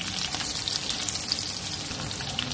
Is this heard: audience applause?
no